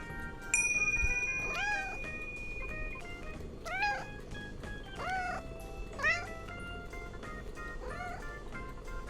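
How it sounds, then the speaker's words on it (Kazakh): A domestic cat meows four times at roughly even intervals, each call clear and upward-bending, close and fairly loud over a quiet background hum. "мысық"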